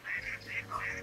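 A duck gives a quick series of four or five nasal quacks, fairly close and clear, in a children's circle-time farm animal lesson.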